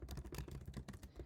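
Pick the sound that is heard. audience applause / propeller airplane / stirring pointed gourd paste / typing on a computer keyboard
typing on a computer keyboard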